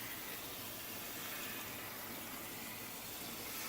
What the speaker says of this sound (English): You take the faucet sprayer thing, and just hose the thing down.